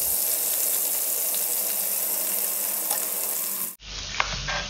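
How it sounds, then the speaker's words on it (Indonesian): Cut tofu pieces fry in hot oil with a dense, steady sizzle that fills most of the moment, then cuts abruptly to a quieter, different crackle near the end. "Langsung saja kita goreng tahu yang kita sudah potong-potong tadi."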